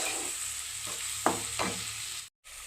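Coriander powder roasting in a pan for a toddy-shop-style fish head curry: a steady close sizzle broken by a few scraping stirs of the spoon, with a brief dropout near the end.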